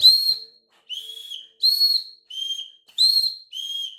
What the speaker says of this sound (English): I need my two-tone dog whistle.